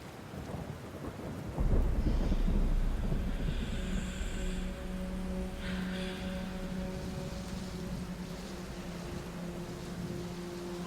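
Steady rain falls with a deep roll of thunder that swells early and then rumbles on, heard outdoors with no voices.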